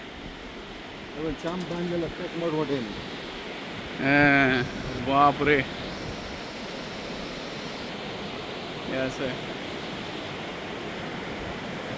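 The fast-flowing Goriganga River rushes beneath a bridge in a constant broadband roar. A few short excited exclamations are heard over the water.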